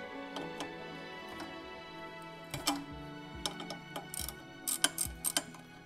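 A wrench breaks loose the 10 mm bolts on an oil pickup tube in an E36 M3 drift car, giving faint, close ratcheting clicks and metallic ticks that come in uneven clusters and grow busier toward the end.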